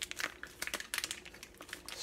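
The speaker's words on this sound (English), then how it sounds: "I'm squeezing out the air, pushing down on the beans, then I'll fold the top over" A plastic bag of coffee beans crinkles loudly up close as it is squeezed to push out the air and folded over, with a rapid series of sharp crackles and rustles and no talking.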